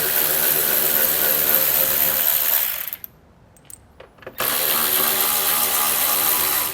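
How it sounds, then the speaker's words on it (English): A ratchet wrench removes 10mm bolts on a 2017 Chevrolet Sonic during a base plate installation, giving a continuous close clicking and whirring that breaks off for a moment and then resumes, with no talking. "Take out these 10mm bolts."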